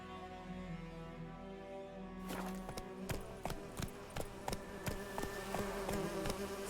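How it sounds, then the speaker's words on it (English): Bees buzz in The Witcher 3 game world, a steady insect drone carrying through the scene with repeated sharp clicks and footsteps-like taps layered over it after the first couple of seconds. "I heard bees back there."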